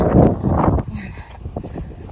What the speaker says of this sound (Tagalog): Paulan guys, sobrang hangin.